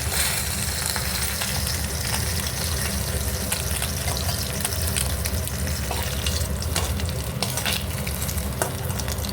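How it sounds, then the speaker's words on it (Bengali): Fish heads frying in hot oil for a Bengali fish-head-and-rice dish, a steady, close, dense sizzle with crackles and occasional stirring scrapes, heard alone with no talk. "ভালো করে ভেজে নিয়েছি মুড়োগুলো লাল লাল করে"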